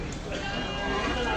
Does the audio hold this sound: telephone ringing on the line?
no